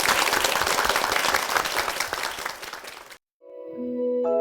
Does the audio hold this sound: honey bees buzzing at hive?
no